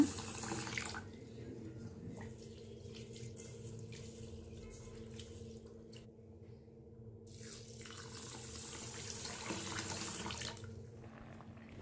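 Two cups of basmati rice washed in water, heard as a steady, quiet running-water wash with soft sloshing and gurgling that continues throughout, with one brief lull midway.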